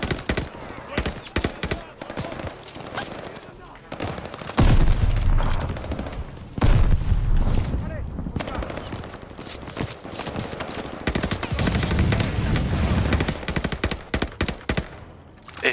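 Rapid bursts of gunfire from the video game Call of Duty Vanguard, dense shots and volleys crackling throughout, with heavier booming blasts around the middle and end.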